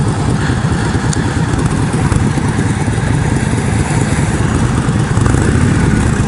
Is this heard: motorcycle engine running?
yes